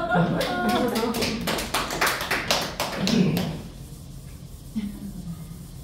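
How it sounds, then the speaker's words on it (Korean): Several sharp hand claps ring out in a lecture room during a class session, a short burst of close taps with voices murmuring around them, then a quieter stretch. "박수."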